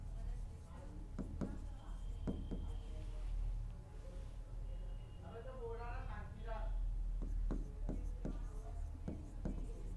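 A pen scratches out a maths solution on paper in a quiet room, with soft intermittent strokes and taps close by, and a voice talks quietly over part of it.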